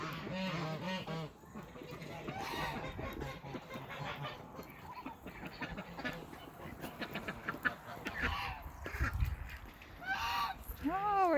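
Geese honk repeatedly on a farm among ducks, a busy mix of loud near and fainter calls throughout, with a person's voice occasionally mixed in.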